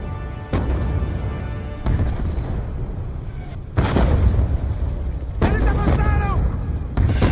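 Mortar explosions in the Black Ops 2 video game, several loud deep booms with rumbling tails, one after another, mixed with bursts of chatter and radio-like voices over them.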